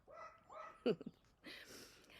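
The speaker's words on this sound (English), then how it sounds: "Can you guys hear my dog barking in the background?" A dog gives a few short, muffled barks and yips from a distance, set against a quiet room.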